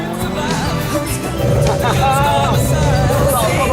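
A Ford Escort Mk1 Mexico race car drives with a rising engine note and what may be tyre noise, loud and close, while voices talk over it.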